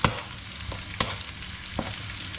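Cumin seeds sizzling in hot oil for a Trinidadian-style chicken curry, with a steady close frying hiss and a few soft stirring taps, no voices.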